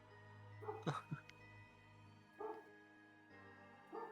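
Ambient dog barking sound effect playing during a tabletop role-playing session: a few faint, separate barks and yips spaced over several seconds against a quiet background hum.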